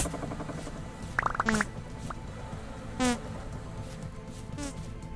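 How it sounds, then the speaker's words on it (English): Angry bees in the video game Vintage Story buzz in short, sharp bursts over a low background hum, with a few separate drones coming and going. "There's some angry bees."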